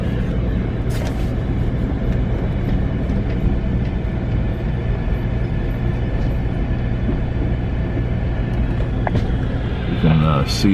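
Amtrak California Zephyr train running eastbound near the north end of San Francisco Bay, heard from on board as a loud continuous low rumble and rattle of the rails with faint squeals near the end.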